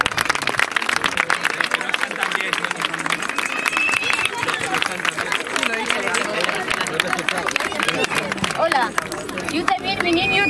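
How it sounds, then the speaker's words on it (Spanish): Applause from a crowd at a street demonstration over the IQOXE chemical plant accident: dense, sustained clapping with crowd babble and a voice speaking over the top throughout. "Un grandísimo aplauso para ellos, yo creo que se lo merecen."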